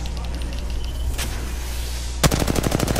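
Gunfire in the video game Apex Legends: a single sharp shot, then a fast automatic burst of evenly spaced cracks over a low background rumble.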